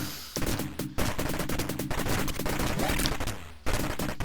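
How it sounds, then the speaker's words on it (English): Rapid machine-gun fire and explosions from the 1985 Capcom Commando arcade game, a dense, loud burst of chiptune gunfire with short breaks and sharp blasts over game music. "The bullets and grenades always seem to be able to reach you."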